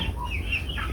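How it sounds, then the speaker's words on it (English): Four-month-old broiler chickens on a farm in Uganda, soft clucking from a flock close by over a steady low farm background, no talking. "We first start with these big chicks."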